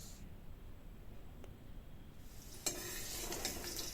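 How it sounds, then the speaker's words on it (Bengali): Potato pieces with salt and turmeric frying in white oil in a wok, faint hiss at first, then a sudden louder burst of sizzling and scraping as stirring begins, continuing steadily to the end. "দিয়ে এখন আমি আলুগুলোকে ভালো করে লাল লাল করে ভেজে নেব।"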